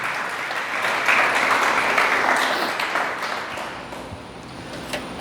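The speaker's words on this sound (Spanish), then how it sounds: "Denle un aplauso a Dios con todo su corazón" A church congregation applauding together, a broad, sustained wash of many hands clapping that swells and then slowly fades, heard alone without talk.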